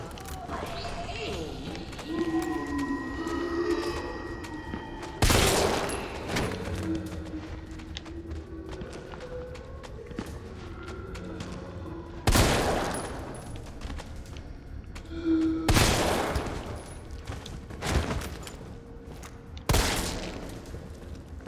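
Gunfire in the video game Resident Evil 3 in a factory area, several loud isolated shots spaced seconds apart over a low ambient background, with a voice talking in between.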